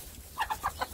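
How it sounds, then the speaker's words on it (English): Backyard hens cluck in a quick series of short, close calls as they follow their keeper, over a low outdoor background. "See, you don't have to have food to have your hens follow you."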